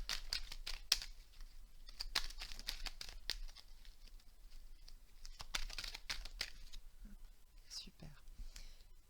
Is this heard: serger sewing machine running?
no